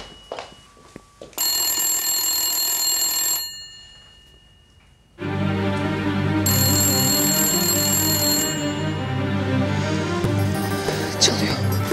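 A telephone rings indoors in repeated loud bursts, with a pause between rings; someone speaks near the phone before and between the rings.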